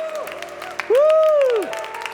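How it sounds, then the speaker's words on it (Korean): Church youth group at a New Year service cheers and claps for newly arrived high school students, with scattered clapping under a loud, sustained rising-and-falling whoop from the crowd in the middle. "환호성을 질러서 큰 박수로 좀 축복합시다"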